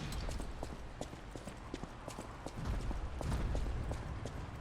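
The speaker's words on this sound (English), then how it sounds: "Here's someone stomping around all loud." Heavy stomping footsteps in the video game Lies of P, a run of loud, evenly spaced thuds from a nearby figure with faint talk underneath.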